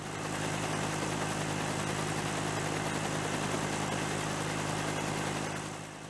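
Constant loud whir and drone of a Beta Technologies Alia 250 electric aircraft with a pusher propeller, a steady unbroken hum close by with no pauses.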